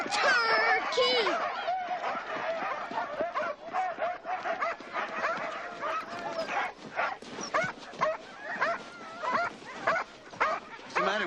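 Several dogs at a race event bark and whimper in a busy, overlapping stream, with yips and whines mixed among people talking throughout.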